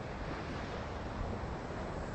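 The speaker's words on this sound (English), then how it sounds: "I can hear the waves cracking over my shoulder." Ocean surf rushes steadily onto the shore at sunrise, a dense, continuous wash of broadband noise with some wind buffeting the microphone and no voices.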